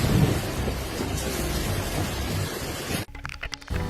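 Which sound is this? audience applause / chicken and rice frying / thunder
thunder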